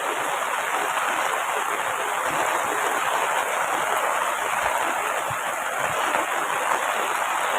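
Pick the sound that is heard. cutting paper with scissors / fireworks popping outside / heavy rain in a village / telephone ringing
heavy rain in a village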